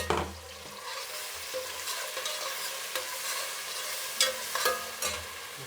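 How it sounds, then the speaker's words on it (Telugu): Tomatoes frying in a pan with curry leaves and half-browned onion, a steady close sizzle with scraping stirs and a few sharper clicks of a spoon against the pan. "ఇప్పుడు టమాటా వేసుకునేద్దాం."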